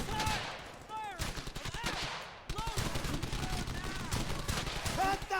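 World War 2 infantry squad fire from rifles and machine guns, dense bursts and rapid volleys of shots close by and loud, with shouting voices mixed in.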